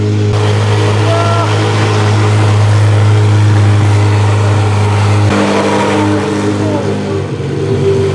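A Corvette C8 Z06 with a titanium exhaust revs loudly up close, a sustained heavy engine roar with a tonal shift partway through, while people talk excitedly over it.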